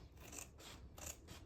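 Scissors snip through curtain fabric in a sewing room, two close rasping cuts about a second apart with a soft fabric hiss, no voices.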